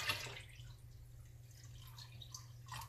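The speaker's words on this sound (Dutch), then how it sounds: "Dus we gaan eerst even water toevoegen." Water poured into a plant bucket: a faint, soft trickle and drip, brief and quiet against low background hum.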